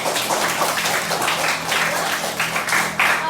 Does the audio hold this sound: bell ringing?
no